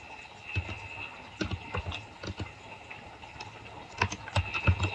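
Someone types on a computer keyboard while running a Python script in a terminal, with quiet, irregular clusters of key clicks and short pauses between bursts, close and fairly soft.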